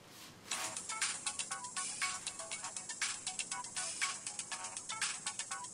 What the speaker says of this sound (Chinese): 电话。